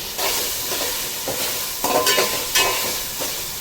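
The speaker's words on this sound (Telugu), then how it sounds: "ఇవన్నీ బాగా మనకి వేగేంత వరకు మనము చేద్దాము" Raw onions and garam masala frying in a pot give a continuous close hiss and sizzle, with a few louder crackles and stirring scrapes near the middle, no voices.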